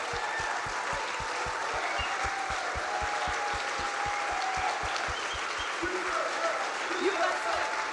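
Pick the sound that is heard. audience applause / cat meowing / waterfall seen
audience applause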